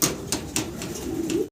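A Lahori pigeon coos in a low, throaty series of repeated notes, fairly close and steady, with a few brief sharper sounds over it and no talk.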